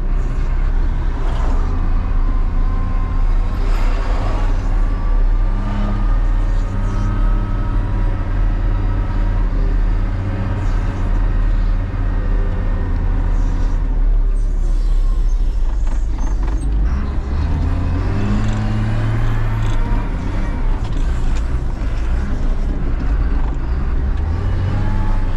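A Caterpillar 930H wheel loader drives along a narrow road in third gear, its diesel engine droning loud and steady throughout with low rumbling and rattling, shifting pitch partway through as it pulls harder.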